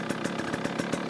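A KTM XCW dual sport motorcycle engine idling, a quiet, steady rapid putter with regular pulses, heard up close and alone.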